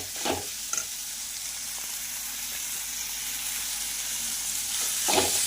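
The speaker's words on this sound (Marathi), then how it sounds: "पूर्ण मऊ होईपर्यंत आपल्याला हे टोमॅटो आणि मसाला शिजून घ्यायचा आहे" Chopped tomatoes and masala fry in a pan with a steady soft sizzle, broken by a couple of spoon stirs near the start and end. The sound is close and even, with no speech.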